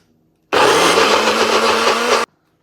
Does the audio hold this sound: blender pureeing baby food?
yes